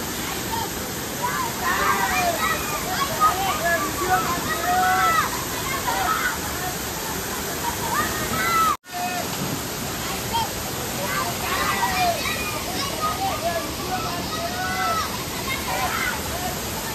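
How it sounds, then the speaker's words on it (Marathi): A waterfall roars as a steady, loud wash of rushing water, with friends' voices and splashing mixed in and a brief dropout midway. "बघा धबधबा."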